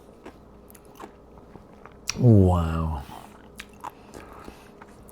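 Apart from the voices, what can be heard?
crunchy bite of a home-canned pickle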